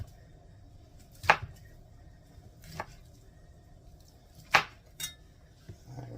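Leftover ham being diced with a knife on a cutting board: a handful of sparse, quiet chops spaced a second or more apart over a low background hum.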